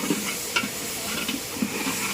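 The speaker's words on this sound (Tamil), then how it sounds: "இப்போ வந்து நல்லா கொழுப்பு வந்து வதங்கி வரணும்." Mutton fat sautéing with a little turmeric in a pan, a soft, faint sizzle broken by a few light stirring clicks, close by and without talk.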